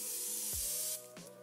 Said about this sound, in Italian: Mi spruzzo un po' di setting spray qua